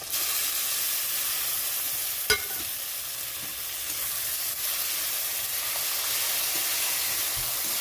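Tomato frying in hot oil with onions and spices for a chenga fish curry, a dense continuous sizzle with a sharp stirring clatter near the start and no talking.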